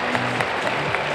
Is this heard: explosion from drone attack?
no